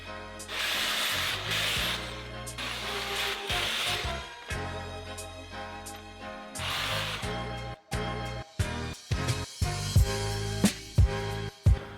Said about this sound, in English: So I'm about to start cutting it with this little saw, grinder, whatever you want to call it.